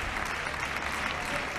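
Football fans in the stands at a Sevilla Atlético versus FC Cartagena B match applaud steadily, a dense, even wash of clapping from a crowd that holds at one level throughout with no speech over it.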